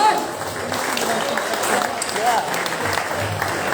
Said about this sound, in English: Give a round of applause to Scorebar.